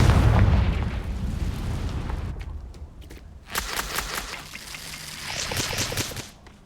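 A Confringo blasting spell explodes in the video game Hogwarts Legacy, a loud booming blast that rumbles and decays, followed by crackling debris and a second burst of scattering fragments.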